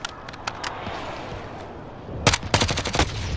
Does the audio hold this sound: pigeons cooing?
no